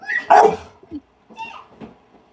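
One close, sharp dog bark, then a few faint yips and whimpers trailing off into quiet.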